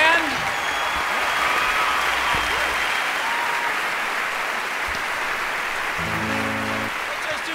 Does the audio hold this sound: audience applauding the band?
yes